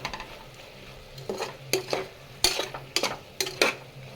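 Tomato rice being stirred in a pan, a series of close scraping strokes with soft clinks of a spoon against the metal over a faint sizzle.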